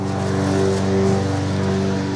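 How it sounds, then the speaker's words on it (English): A Hayter lawnmower engine, under repair for only idling, runs close and loud with a steady, even drone and no speech. "The engine sounds good as well."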